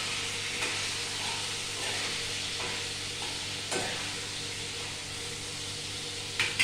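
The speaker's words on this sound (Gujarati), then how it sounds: "હવે આપણે એને મિક્સ કરી કાઢીએ" Salted brinjal and potato curry being stirred in a pan over low heat, a soft steady sizzle with a few scraping stir sounds and light clatter, no talking.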